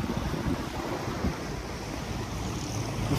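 Ocean surf and wind at the shore on a sunny day, a steady broadband roar of breaking waves with gusty wind noise on the microphone throughout.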